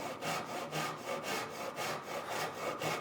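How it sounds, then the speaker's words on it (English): Hand saw cutting wood against a knife wall, a steady back-and-forth rasp with about a dozen even, close strokes and no voices. "we're going to use the saw like this, right up against the side of the knife wall"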